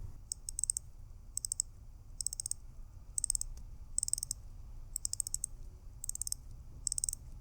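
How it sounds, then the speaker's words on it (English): Crown of a Hamilton Khaki Field mechanical 38mm watch being wound, giving eight quick bursts of tiny crisp clicks at a steady rhythm, close and quiet, with no voices. "It's smooth and has satisfying clicks as you turn the crown."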